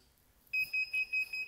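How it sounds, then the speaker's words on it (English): Finish alarm of a CO2 laser engraver after cutting a leather hat patch: five loud, evenly spaced electronic beeps following a brief quiet moment, with no talking. "There's your alarm."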